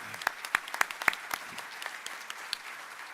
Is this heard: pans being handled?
no